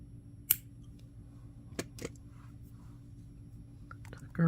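Scissors snip a few quick cuts while amethyst earrings are being made, sharp close clicks scattered among soft handling noises.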